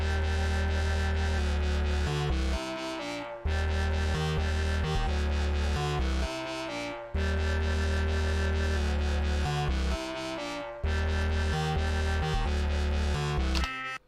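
About seven layered Serum synthesizer sounds play together with no plugins or processing, a dense, loud, sustained chordal stack with a throbbing low end that pulses in repeating phrases.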